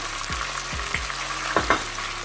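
Finely chopped onion frying in a pan for chicken do piaza, a steady sizzle with several low knocks and spatula scrapes spaced through, close and without talk.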